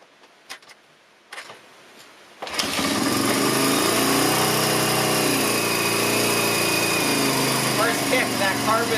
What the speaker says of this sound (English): Now you want to go ahead and start up the bike and let it warm up.